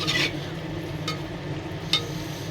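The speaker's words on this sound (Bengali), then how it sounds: "এরা আমি ভালো করে কষায় নিব" A paste of ground coriander and cumin is sautéed for handi beef under a low, steady frying hiss, with a few brief sharp scrapes and taps from a spoon in the pot. No one speaks.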